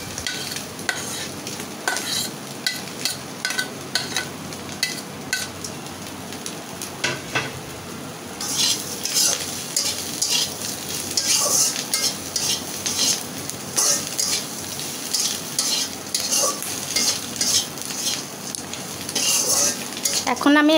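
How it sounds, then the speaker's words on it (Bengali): Fried prawns being mixed in a pan with fried garlic, green chili and onion, with a gentle sizzle under repeated metallic scrapes and clinks of a spatula against the pan, busier in the second half. "এখন এটার মধ্যে ওই যে রসুন, কাঁচামরিচ, পেঁয়াজ ভেজে রাখছিলাম সেটা আবার মিক্স করে দেব"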